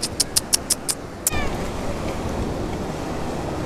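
A cat by a sea-view villa on the Istanbul coast gives a quick run of six short, loud meows, then one longer, drawn-out meow, with steady surf-like wash behind it.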